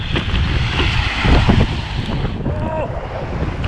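A bicycle pedals through a storm at Khok Nong Na, with heavy, steady wind roar and rushing flood water that swells briefly midway, close and loud throughout.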